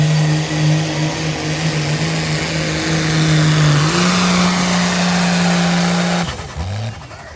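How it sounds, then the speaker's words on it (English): Diesel trucks in stock and street classes at a truck pulling competition, a loud sustained engine roar with steady droning tones that shift in pitch partway through, then a revving change near the end. "we got stock class and street class diesel trucks pulling now"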